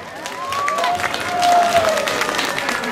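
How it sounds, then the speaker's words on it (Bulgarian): A crowd claps and cheers at an outdoor Christmas tree lighting in a small Bulgarian town, moderately loud applause mixed with crowd noise, and a whistle or squeal rising through the middle. "Те аплодисменти ги читам за репетиция"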